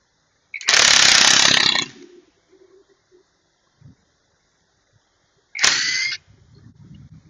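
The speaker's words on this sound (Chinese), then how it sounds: "热风先对着这个螺丝。 对着螺丝吹。" A heat gun blows hot air onto a screw on an OOTD S10 e-scooter, a loud steady rushing blast lasting over a second, then silence with faint handling knocks, and a second shorter blast near the end.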